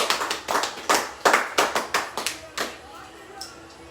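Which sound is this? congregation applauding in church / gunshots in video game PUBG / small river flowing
congregation applauding in church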